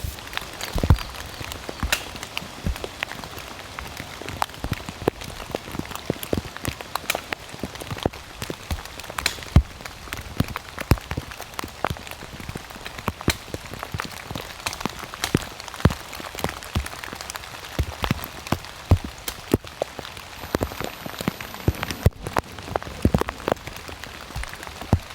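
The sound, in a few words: heavy rainstorm at a camp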